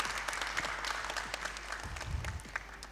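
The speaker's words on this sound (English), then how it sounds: "Thank you so much for that applause." Audience applause at a kids' spelling competition grand finale, many separate hand claps in a brisk, scattered rhythm, fairly faint and distant over a low background hum, lasting about three seconds.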